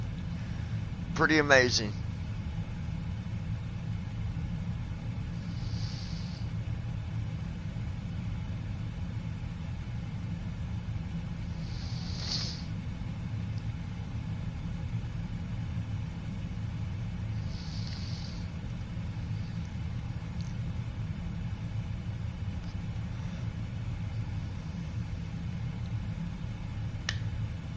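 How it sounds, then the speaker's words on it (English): Steady low engine drone of a Boeing 777-200 with GE engines at 14,000 ft in the PMDG simulator, a constant muffled cabin rumble throughout, with a brief click near the start and a few soft voice lines over it. "Now see, you can barely hear them engines right now."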